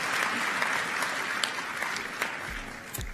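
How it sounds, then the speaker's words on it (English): A large crowd at a Rwanda Day 2024 gathering in Washington DC gives a round of applause, a steady, somewhat distant wash of clapping with a few louder claps standing out. "and another round of applause,"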